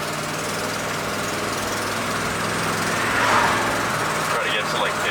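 A Ford F-150 pickup's engine hums steadily from inside the cab during a test drive on the road, a low continuous drone with road noise that swells slightly midway; no clear speech.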